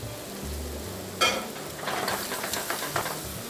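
Fish and meat frying in a pan with salt, a steady crackling sizzle close by, with a sharper burst of spattering partway through and continuing busy hissing after.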